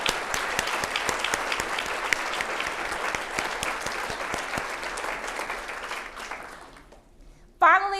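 Audience applause at a State of the City address, a steady wash of many hands clapping for several seconds that thins and fades out, followed by a brief burst of another sound at the very end.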